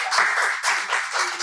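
Brief burst of audience clapping at a mentorship meetup, a close, even patter of hands lasting just over a second, with no talk over it.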